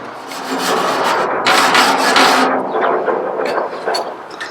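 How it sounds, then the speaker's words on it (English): A wire brush scrubs the inside of the firebox of an offset steel smoker, a continuous loud rasping scrape with surges in intensity, close up with no talk. "I'm going to follow up and do the same exact thing with a wire brush that I just did with our scraper"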